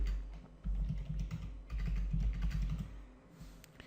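Close, quiet typing on a computer keyboard while entering PHP code, a steady patter of key clicks in short bursts with brief pauses between.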